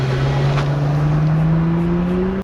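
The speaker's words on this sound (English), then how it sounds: "And here's a launch for the Prowler." A Plymouth Prowler pulls away hard from a launch, its engine note climbing steadily under load for a couple of seconds before cutting off abruptly, loud and close.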